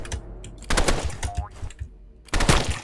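A burst rifle in a video game fires in several quick bursts of rapid, sharp shots, loud and close, separated by short gaps.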